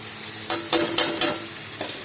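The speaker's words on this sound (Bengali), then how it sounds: "সব একসাথে এখন আমি কষিয়ে নেব।" Ground chilli, Kashmiri chilli, cumin and turmeric paste frying in a pan, a steady sizzle with a few short scraping strokes of a spoon stirring it.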